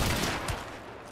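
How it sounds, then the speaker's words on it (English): Gunfire in the Hunt: Showdown video game, a rapid burst of shots packed into about a second, moderately loud and fairly close, with one sharper report standing out partway through. "I shot him"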